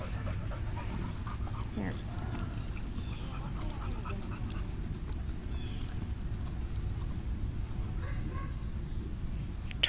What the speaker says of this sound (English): I'm trying to think who that is barking.